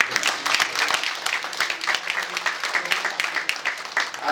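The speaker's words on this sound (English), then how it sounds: "So please, one last round of applause for yourself." Banquet audience applauding in a room, a lively, uneven patter of many hands with distinct individual claps standing out, fairly close and continuous.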